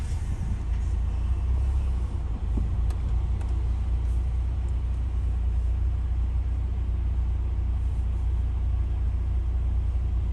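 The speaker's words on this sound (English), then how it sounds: "There goes the Airstream" A travel trailer, an Airstream, rolls past on a road near the Canada–US border, a steady close rumble of tires and engine with no pauses, heard alone.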